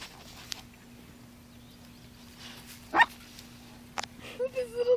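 A young puppy gives a few short, sharp yips, then a run of rising, close whines near the end, with quiet human voices around it.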